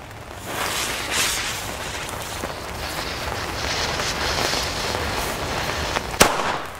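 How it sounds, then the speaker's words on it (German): Old-version King Cobra firecracker from Fire Event going off outdoors at New Year's: broadband crackling and rumbling blasts spread across the stretch, ending with one sharp, loud bang near the end. "King Cobra von Fire Event, noch die alte Version."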